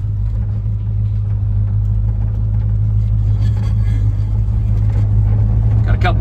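1954 Chevrolet 3100 pickup truck on the road, a loud, steady low engine rumble and drone throughout with faint rattles and knocks riding on top.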